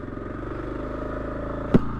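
A Kawasaki KLR650S motorcycle riding along a sandy trail, its engine a steady, loud, close drone with one sharp clatter near the end.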